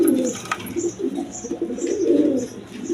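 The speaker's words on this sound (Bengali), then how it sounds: "এক পেয়ার গররা কবুতর দেখেন একদম কোয়ালিটি সম্পন্ন কবুতর" A pair of Gorra pigeons coo in low, throaty rolling phrases, close and steady across the whole stretch, with faint higher chirping in the background and no talk.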